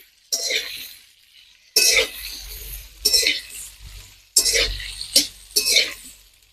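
Potatoes being stirred into fried spice masala in a pan, heard as bursts of scraping and clinking utensil strokes against the pan separated by short pauses, with a low sizzle underneath.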